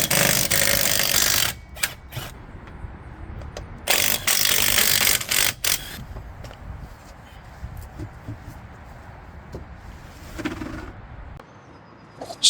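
A ratchet jack lifts a Volvo 240 car, with bursts of loud rapid clicking from the pawl in the first seconds, then quieter intermittent mechanical clicks and creaks, while birds coo faintly in the background.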